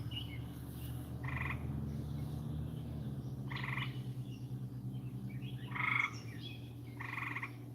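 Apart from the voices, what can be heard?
frogs croaking loudly at night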